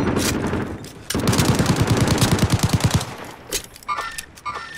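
Automatic gunfire crackles in the video game Call of Duty Warzone, a loud close burst of rapid shots followed by a few scattered single shots and game effect sounds.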